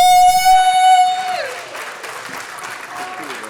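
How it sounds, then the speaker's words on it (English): Audience at an annual child protection conference applauds a speaker being introduced, a loud sustained horn-like tone at first giving way to a spread of clapping and cheers that fades into softer scattered applause. "massive round of applause for Paul Diamond"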